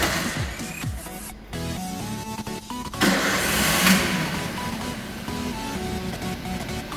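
A Daihatsu Xenia with a K3-VE engine cranking and starting, a brief whirring crank then the engine catching and revving up before settling into a steady idle, close and alone.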